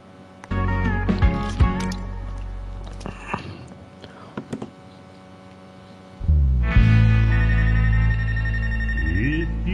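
A telephone rings in a booth in the video game Life is Strange, with tonal electronic ring bursts that start and stop, then a louder sustained ring later, alongside some brief clicks.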